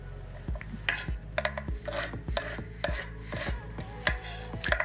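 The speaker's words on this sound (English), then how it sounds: "I am actually gonna cut them in half because they're small English cucumbers" Knife slicing small English cucumbers in half on a cutting board with angled cuts, a series of crisp, fairly regular chopping taps close up, with no talk.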